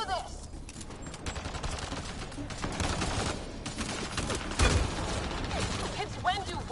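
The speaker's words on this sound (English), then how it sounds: "Just keep firing." Rapid gunfire from a Mass Effect Andromeda firefight crackles through a noisy in-game battle scene, with bursts of shots layered over loud ambient effects and voices.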